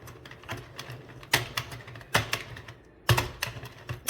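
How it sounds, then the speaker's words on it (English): An Addi Express Kingsize knitting machine clicks away while knitting, with steady rapid mechanical clatter and sharper loud clacks at roughly one-second intervals, close up and without talk. "And it's clicking away."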